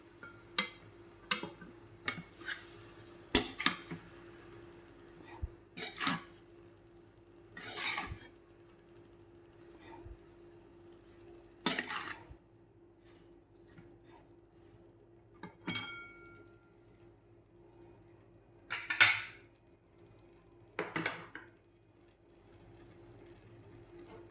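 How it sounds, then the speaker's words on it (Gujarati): Metal spoon scraping and clinking against a pan while radish leaf curry is mixed, sparse irregular clinks and scrapes spread across a quiet kitchen with a low steady hum beneath. "હવે આપણે આને બરાબર મિક્સ કરી દઈશું."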